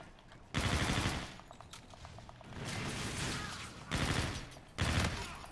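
Bursts of rapid video game gunfire from a player's weapon, loud dense volleys starting and stopping in several separate blasts with mechanical clicks between them, no talk.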